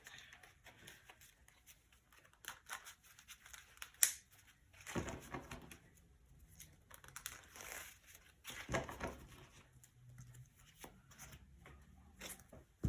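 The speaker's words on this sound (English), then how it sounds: "And we'll shuffle our deck." A deck of Urza's Iron Alliance precon cards is shuffled by hand: quiet scattered card flicks and riffles, with two louder riffling bursts in the middle and softer handling noises in between.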